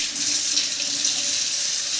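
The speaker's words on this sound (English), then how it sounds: "you can just take it and rinse it right under the water, which I'm going to do right now" A kitchen tap runs steadily, rinsing a raw shrimp being deveined under the stream; a constant, fairly loud hiss of flowing water fills the whole stretch with no voices.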